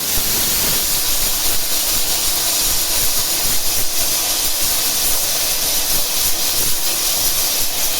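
A pressure cooker full of goat trotter paaya vents steam in a loud, continuous, rushing hiss that holds steady for about eight seconds, close by and with no voices.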